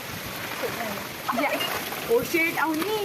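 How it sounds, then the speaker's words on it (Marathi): Heavy rain pours down outdoors around a sand fort built for Diwali, a steady splashing hiss running beneath close conversation throughout. "खूप जोरात पाऊस होतो"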